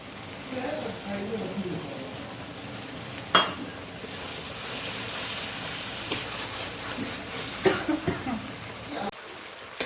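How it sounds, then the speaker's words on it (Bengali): Mustard paste masala fries in oil in a pan for a Bengali fish curry while it is stirred. A steady sizzle sounds close by, broken by sharp scrapes and clicks of the spoon, with a voice briefly present near the start. "এবারে একটু ভাজতে থাকবো এই মশলাটা ভালো করে ভাজবো"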